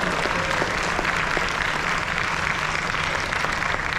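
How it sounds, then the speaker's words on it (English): Sustained applause from a crowd at the Netroots Nation keynote, steady and dense throughout, with no one speaking over it. "Can we give her a big round of applause?"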